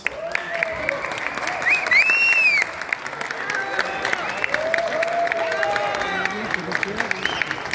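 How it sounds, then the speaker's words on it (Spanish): Applause from an audience at a Spanish-language cast presentation press event, steady clapping throughout, moderately loud, with a voice over it and a brief squeal of feedback near the start. "Quiero que le brindemos un fuerte aplauso a nuestro productor, Omar Suárez"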